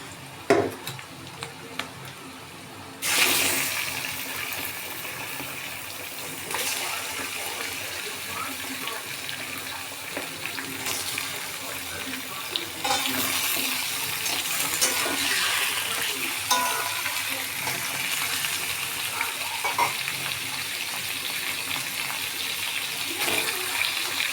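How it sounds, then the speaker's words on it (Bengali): Chicken pieces dropped into a pan of softened onions, giving a hissing sizzle with scraping stirs and clatter that picks up after a sudden start and keeps going busily and near, with no talking. "এখন এর মধ্যে আমি চিকেনগুলো দিয়ে দেবো।"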